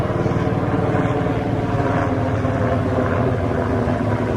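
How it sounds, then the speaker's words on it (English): An Apache helicopter flies low overhead, its loud rotor drone and engine roar steady and close throughout, with no break in the dense rumble. "that is a loud helicopter"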